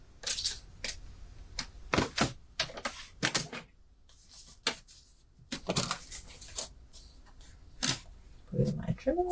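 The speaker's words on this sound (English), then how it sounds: "So I'll just trim it down there." Paper trimmer cutting cardstock for a handmade wedding card: a series of short sharp slicing and clacking strokes in irregular bursts, close and crisp, separated by brief quiet gaps.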